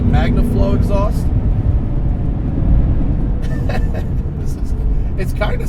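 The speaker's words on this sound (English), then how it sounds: "I think it's a Magnum flow exhaust." A modified 1998 Jeep Grand Cherokee 5.9 Limited with a Magnum flow exhaust gives a steady, deep rumbling growl throughout, close and loud, with someone talking over it.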